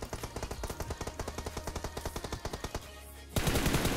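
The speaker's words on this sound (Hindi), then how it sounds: "और यहाँ पर क्रॉस फायर हो रहा था" Crossfire near apartment buildings in the BGMI battle royale game: rapid automatic gunfire rattles in steady bursts, then a louder, denser volley bursts in near the end.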